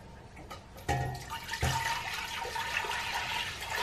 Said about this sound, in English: Andy, would you like to pour that in?